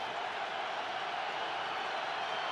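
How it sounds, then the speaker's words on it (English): Football crowd at the Meadowlands stadium swelling into a broad roar and cheer, a dense, even wash of many voices filling the whole moment. "Crowd rising as one at the Meadowlands."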